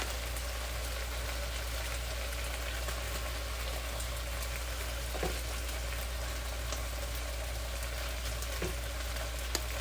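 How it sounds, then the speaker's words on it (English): Chicken for adobo sears in a hot pan with a steady, close sizzle and crackle, constant throughout with an occasional faint tap. "I got the chicken. You don't cook it all the way. Get a little seared."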